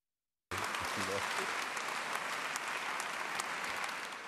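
Long, sustained applause fills a cathedral in Rabat, a dense steady clatter of many hands starting abruptly and continuing evenly to the end, with a voice speaking briefly near the start.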